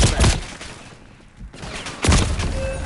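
Bursts of gunfire in a Black Ops 6 Battle Royale match, loud close volleys at the start and again near the end, with a quieter lull between them.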